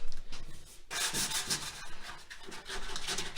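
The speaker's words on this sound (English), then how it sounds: "So she's using some sandpaper too." Sandpaper rubs back and forth across a painted wooden pub table in short, rough, raspy strokes, close and fairly loud, with a brief pause early on before the scraping resumes.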